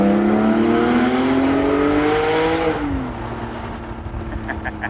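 A Porsche GT4 engine revs hard with a rising roar, echoing in an enclosed tunnel, then drops back to a lower idle rumble.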